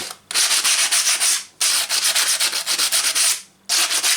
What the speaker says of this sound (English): we'll just give it a light sand on the edge.